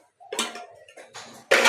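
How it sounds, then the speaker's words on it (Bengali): Dishes clink and clatter as breakfast food is taken out, a few short knocks and scrapes of plates and utensils, close and moderately loud, with a sharper burst of clatter at the end. "তো এখন আমি খাবারটা বের করে নিচ্ছি, সকালবেলার খাবার।"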